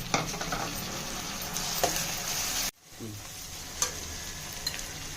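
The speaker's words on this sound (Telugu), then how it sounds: "ఉల్లిపాయ ముక్కలు బాగా వేగిపోయిన తర్వాత టమాటా ముక్కలు వేసుకోవాలి." Onion and tomato pieces fry with green chilli and curry leaves in a pan for pakoda curry. The sizzle is loud and close, breaks off abruptly, then resumes quieter with a few utensil clicks.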